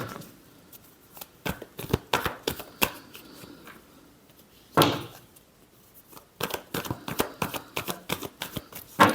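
Tarot cards being shuffled in a series of quick riffling bursts separated by short pauses, close and fairly soft with no talking.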